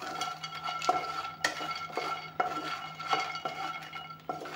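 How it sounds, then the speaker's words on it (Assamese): A metal spoon scrapes and clinks against a hot wok while makhana (fox nuts) are stirred and fried, giving sharp periodic knocks over a faint background hum, quiet and close. "এতিয়া প্ৰথমতে মাখানাখিনি অলপমান ভাজি ল'ম।"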